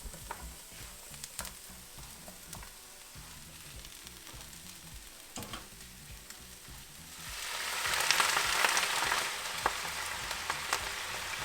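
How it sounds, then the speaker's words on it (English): Mushrooms and onions sauté in a pan with a soft, continuous sizzle and occasional stirring scrapes, growing louder and more hissing toward the end, alone without talk. "Mushrooms are nice and brown, sauteed."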